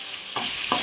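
Tomatoes sizzle in a hot pan for Rayalaseema-style radish (mullangi) pulusu, with two distinct scraping stirs cutting through the steady frying hiss up close.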